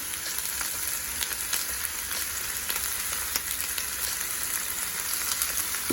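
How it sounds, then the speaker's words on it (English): Onions and chilies sauté in a hot pan, giving a steady, dense sizzle and crackle with small pops that runs unbroken for the whole stretch, close and fairly loud, with no voices. "you're just gonna go ahead and saute them for a little bit until the onion is translucent"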